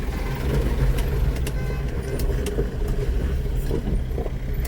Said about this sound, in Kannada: ಗೈಸ್ 4x4 ಅಲ್ಲಿ ಹೋಗ್ತಾ ಇದ್ದೀವಿ.